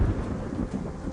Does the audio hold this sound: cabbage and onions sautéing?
no